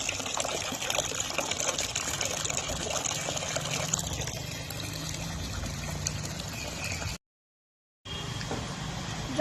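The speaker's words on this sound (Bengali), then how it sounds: "এখান থেকে জল নেবো" Water being drawn and poured to water plants, heard as a continuous trickling, gushing flow, fairly close and steady, briefly cut to silence near the end before resuming.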